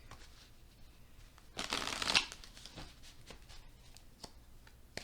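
A deck of playing cards is riffled once in a quick, crisp burst, close and quiet, surrounded by faint handling sounds.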